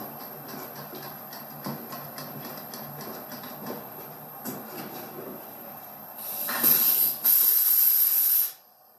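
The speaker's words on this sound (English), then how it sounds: "So I'm going to begin spraying down a light tack coat" Spray gun laying a light tack coat of 2K acrylic enamel on a car door, a soft steady hiss under background noise that swells into loud, bright bursts of spray near the end.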